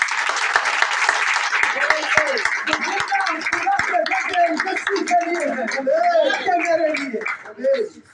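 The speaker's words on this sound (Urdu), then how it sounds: "زوردار نعرہ اور تالیاں تھا۔" A church congregation claps and cheers loudly and steadily, with voices calling out over the applause before it fades near the end.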